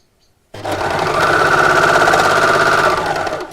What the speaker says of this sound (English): And we'll sew all the way around.